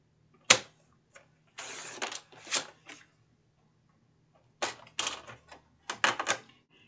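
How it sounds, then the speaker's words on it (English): Cardstock paper is cut on a trimmer in several short bursts of sliding, rasping blade strokes, close and quiet, separated by brief pauses. "we're going to go ahead and cut this down to 8 1/2"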